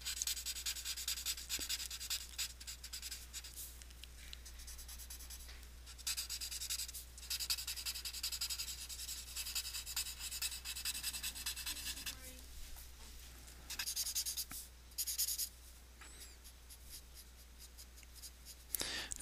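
Graphite pencil shading on paper while drawing the lips of a mouth, a steady scratchy rubbing of the lead that runs almost without a break, with a few brief pauses as the strokes change.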